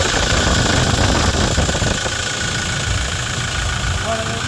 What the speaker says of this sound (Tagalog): naririnig na natin yung tunog ng makina